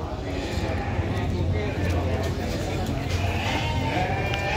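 Sheep bleat at a livestock market in Tanjungsari, Sumedang, amid a busy crowd hum and nearby talking voices.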